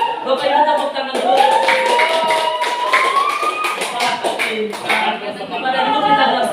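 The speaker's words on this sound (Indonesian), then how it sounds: "Bapak Ibu tepuk tangan dulu." An audience of adults claps steadily in a room, with a dense patter of hand claps that runs throughout alongside talking and a tonal hum.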